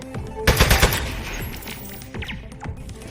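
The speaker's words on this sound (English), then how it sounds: "It is okay to shoot these appliances." A rapid burst of gunfire in the video game Aperture Desk Job as appliances get shot, loud close rattling shots packed into under a second, followed by quieter scattered impacts and clatter.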